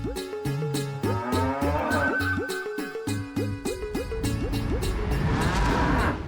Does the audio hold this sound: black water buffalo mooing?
yes